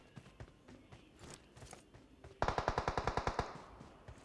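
Automatic gunfire in a BGMI mobile match: a quick burst of about a dozen evenly spaced loud shots, preceded by quieter scattered sounds like footsteps and distant activity, with no talking.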